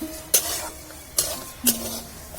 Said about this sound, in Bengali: মুগ ডালটা ভাজা হয়ে গেছে